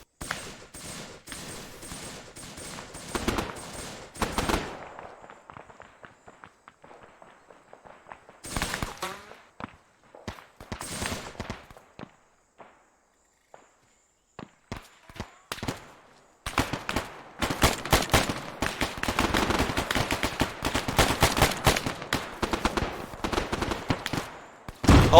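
Gunfire in the Vandal Commander video game's Viet Cong campaign comes in scattered bursts and volleys separated by quieter stretches, then builds into a dense, sustained fusillade toward the end.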